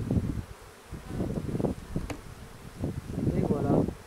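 Honeybees buzz around an open hive during a spring inspection, a close, fluctuating drone that rises and falls with passing bees, while a person speaks quietly over it.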